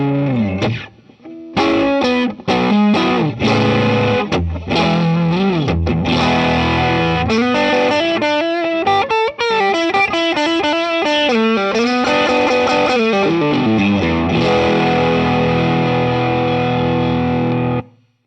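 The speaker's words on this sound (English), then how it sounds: "If we go for one of those in-between Strat sounds." Electric guitar played through a practice rig with a Strat-style in-between pickup setting, ringing chords and melodic lines with some distortion and effects, loud, close and continuous, alone without talk, fading at the end.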